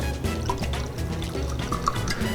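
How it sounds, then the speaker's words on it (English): Beer is poured quickly into a glass tilted at a 45-degree angle, giving a steady, close splashing and gurgling of liquid for a couple of seconds with no talking. "Grab the glass from the bottom, pour always at a 45-degree angle"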